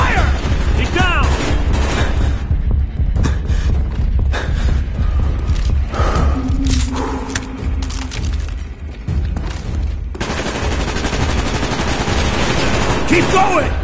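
Dense bursts of automatic and single-shot gunfire in the Call of Duty Black Ops campaign mission Payback, rattling continuously at close range over loud battle noise, with shouted voices mixed in throughout.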